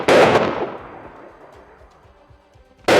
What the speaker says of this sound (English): Outside, the sounds of gunfire erupted.